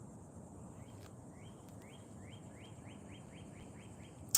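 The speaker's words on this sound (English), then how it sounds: "Y'all hear them birds?" Birds chirp outdoors in a rapid series of about a dozen short rising notes, faint and distant over a steady low hum, with no talk.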